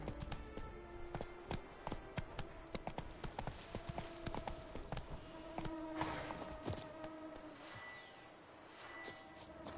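Horse hooves clip-clop at a steady walking rhythm in The Witcher 3 video game, moderately close, with faint insect buzzing in the background and no talk over it.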